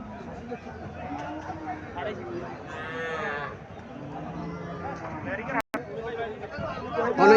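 Cattle at the Chandmura cattle market in Cumilla, Bangladesh, with one long, loud moo rising from the market noise while people talk close by.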